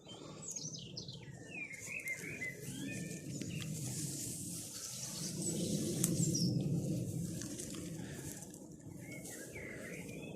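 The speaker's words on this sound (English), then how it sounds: "You can probably hear all the bird song going on" Many birds chirp and sing in a forest garden in May, varied tweets and calls scattered over a steady low outdoor hum, moderately faint and mid-distance, with no talking.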